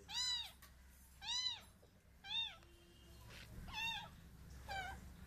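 A cat meows five times, spaced about a second apart, each call clear and fairly close, over a low steady background hum.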